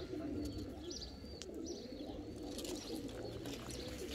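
Pigeons coo softly among other birds at a large pigeon loft facility, with low, rolling calls layered over a constant outdoor murmur and a few higher chirps.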